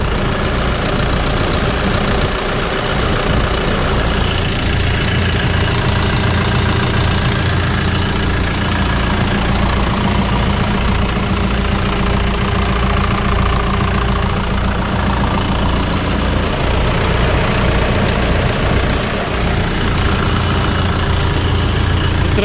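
Steady low rumble of Chinese-made tractor engines idling nearby, a constant chugging drone throughout with no voices.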